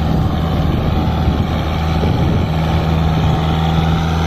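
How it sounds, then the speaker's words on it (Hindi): A Kubota MU4501 4x4 tractor pulls an 11-tine cultivator through soil, its diesel engine giving a steady, loud, close drone with a constant low hum and some wind noise on the microphone. "और ट्रैक्टर बिल्कुल भी दबाव में नहीं है, बिल्कुल फ्री है।"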